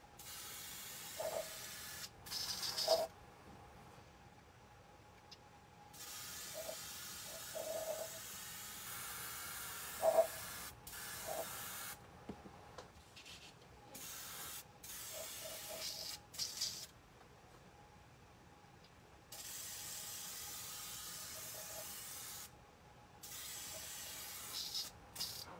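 Short bursts of spray paint laid on in thin, even coats over a painted model, an airy hiss that starts and stops repeatedly at close range with no talking.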